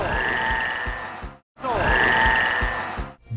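Bulbasaur, the Pokémon video game creature, gives two loud, froggy croaks in quick succession, each a rough, throaty burst with a short silent gap between them.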